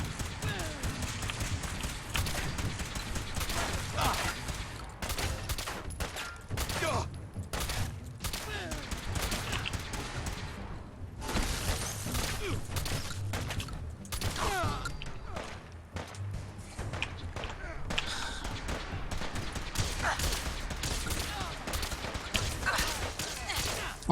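Weapon fire in the video game Fallout 4, including a missile launcher, with rapid bursts of shots and blasts in a dense, loud barrage throughout, under game noise.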